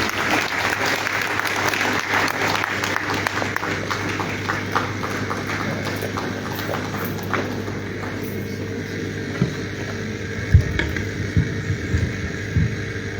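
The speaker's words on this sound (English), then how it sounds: "kindly give Dr. Corney another round of applause" A forum audience gives sustained applause, a dense, even wash of clapping that tapers slightly near the end with a few scattered knocks and thumps.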